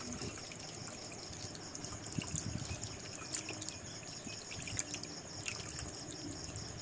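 Water trickles and pours steadily while bathing a small Gopal deity idol with rose water, a soft continuous dribble with faint drips and splashes throughout, close by and fairly quiet.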